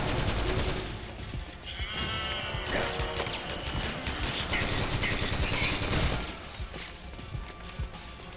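Goat-like bleating cries from creatures in the video game Metal Gear Solid 4: Guns of the Patriots, loud and repeated over dense gunfire and battle noise throughout.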